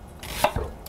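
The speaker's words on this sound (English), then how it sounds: "So rather than chopping this, I'm only going to just slice this up" A kitchen knife slices through a whole onion for pasta sauce, giving one crisp cut followed by a short thud on the cutting board. The sound is close and fairly quiet, with nobody talking.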